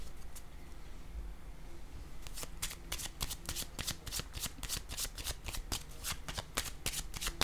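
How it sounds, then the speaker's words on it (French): A deck of tarot cards is shuffled close up, with a quick run of crisp, evenly spaced riffling snaps that grows denser and steadier before the cards are laid down. "Je vais déposer une carte ici."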